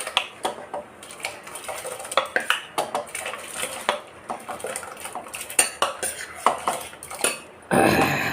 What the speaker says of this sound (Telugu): సగ్గు బియ్యం వేసుకొని కలుపుకోవాలి